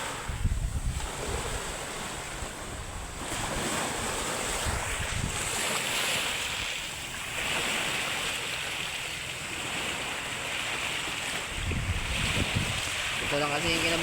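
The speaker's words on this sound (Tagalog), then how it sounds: "Napakalakas ng hangin ngayon yan." Strong wind buffets the microphone on open sea by a seaweed farm, a loud continuous roar with surging gusts and wave wash, and no one speaking.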